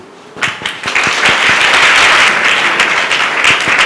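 A church congregation applauding and cheering together, loud sustained clapping that swells quickly and holds steady, with scattered voices mixed in.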